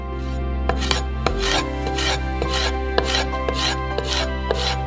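A knife slices peeled peppers into thin strips on a cutting board, producing loud, close, evenly spaced chopping strokes, roughly one to two per second, with nobody speaking.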